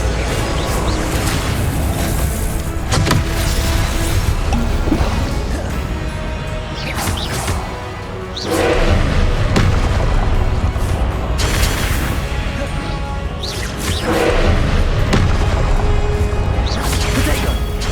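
Confringo blasting spells exploding in the Hogwarts Legacy video game, a run of loud, booming crashes and smashes that come in waves over a dense, continuous roar of game action.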